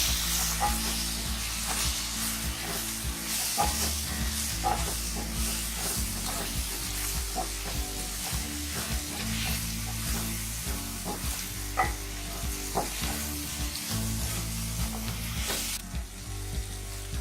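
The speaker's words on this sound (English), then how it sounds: "stir it well to mix the spices." Okra frying with spices in a pan makes a constant close sizzle, with repeated light stirring clicks and scrapes throughout and no voices.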